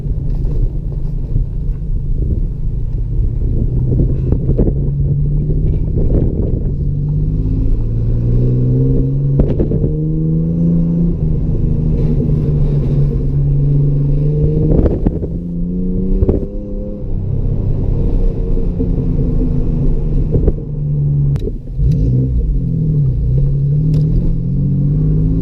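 A lifted Ford Ranger pickup's engine revs steadily and loudly, its low rumble rising and falling in pitch through several throttle swells over about 25 seconds, with some wind buffeting and no talk.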